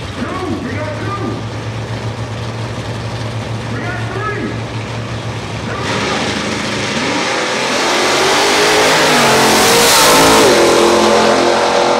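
A Ford Mustang race car at an autumn racing shakedown: a low, steady engine drone swells into a loud, roaring rev that dominates the second half, with voices faintly in the background.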